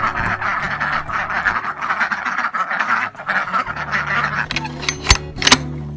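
Ducks quacking on a farm at chore time, a steady flock chatter with a few louder, sharper calls near the end, fairly close by.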